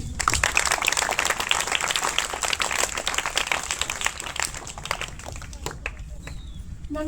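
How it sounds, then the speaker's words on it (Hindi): An audience at a government school event applauds to welcome students, with dense, continuous clapping that holds steady for several seconds and thins out near the end. "जोरदार तालियों के साथ स्वागत कीजिए"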